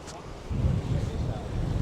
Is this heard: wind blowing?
yes